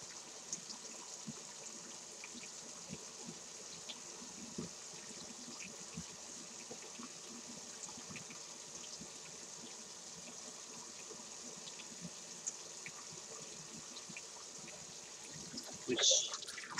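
Tap water runs steadily while the belly of a gutted inada, a young yellowtail, is washed for making dried fish, a soft continuous hiss with a louder splash near the end.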